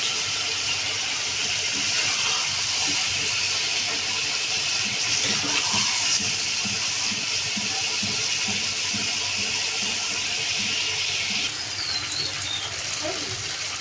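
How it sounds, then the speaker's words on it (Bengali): Meat fries in a pan with ginger garlic paste, giving a loud, steady sizzling hiss that holds unbroken and close throughout. "মাংসটা কিছুক্ষণ ভাজার পর এই পর্যায়ে দিয়ে দিলাম আদা রসুনের পেস্ট"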